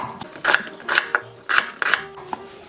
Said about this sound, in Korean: 양파는 이렇게 굵직하게 채를 썰어주세요